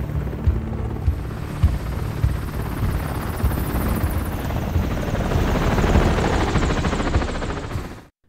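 Helicopter flying over mountains in a film scene, a loud, continuous rotor thump with steady rapid chopping and a broad roar that holds for several seconds, then cuts off abruptly.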